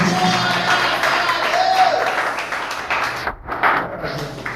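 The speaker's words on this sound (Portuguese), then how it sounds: "Vamos receber o Glória a Ele com as palmas no nome de Jesus." A church congregation at a missions service applauds in worship, a broad continuous wash of clapping with a brief dip before it swells again, and a voice audible through it.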